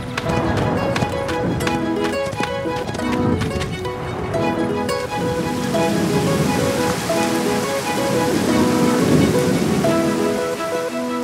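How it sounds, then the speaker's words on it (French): A light rain shower pours down in a dense wash of noise, layered over upbeat music throughout. "ce n'était qu'une petite averse"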